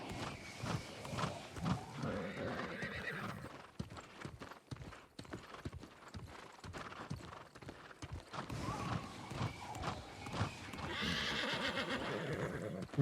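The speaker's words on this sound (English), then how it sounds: "See if my horse makes it." A horse gallops up a hill in the New World Aeternum video game, steady rapid hoofbeats with whinnies and snorts, loud and close throughout.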